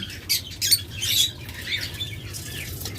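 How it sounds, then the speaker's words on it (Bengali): A yellow-red lovebird pair flutters and squawks in a cage, with soft wing flaps and short sharp calls repeating close by, alone with no voices. "Master pair yellow red colour lovebird."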